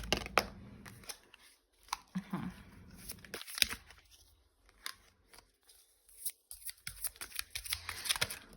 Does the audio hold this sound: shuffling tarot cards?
yes